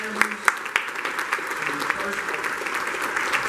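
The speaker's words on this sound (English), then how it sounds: "Let's just give them all the candidates a round of applause because it takes a lot." Luncheon audience applauding political candidates, a moderate steady patter of clapping from a seated crowd in a room, with a few sharper claps near the start and low murmuring beneath.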